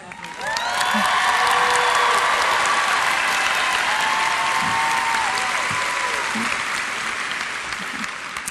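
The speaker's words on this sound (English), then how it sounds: "will you please stand so we can applaud your efforts?" A high school graduation audience breaks into loud, sustained applause that swells quickly and holds as a thick, even roar of many hands for several seconds, with faint cheers mixed in.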